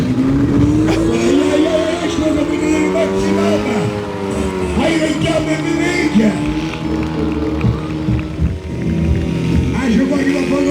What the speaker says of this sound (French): Il se bat avec l'embrayage, l'accélérateur et le volant pour emmener cette voiture face au public.